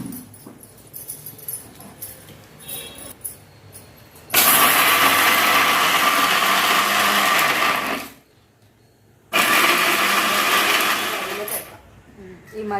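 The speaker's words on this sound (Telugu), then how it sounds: "ఇప్పుడు దీన్ని మిక్సీ కట్టాలి." A kitchen mixie grinds ripe red chilli chutney with salt and turmeric in two loud whirring bursts, the first about four seconds long, then a short silence, then a second run of about three seconds after quieter household sounds.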